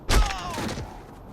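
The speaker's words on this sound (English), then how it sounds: "Grenade it is then." A grenade goes off in Saints Row: The Third, a single heavy thump at the start with a brief rumbling tail, while game voices carry on faintly over the fading blast.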